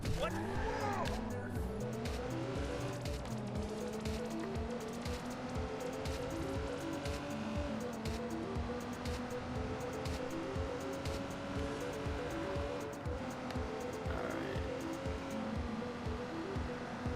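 A car in the Watch Dogs 2 video game drives with a continuous engine drone and squealing tires that hold a steady tone. A voice talks over it now and then.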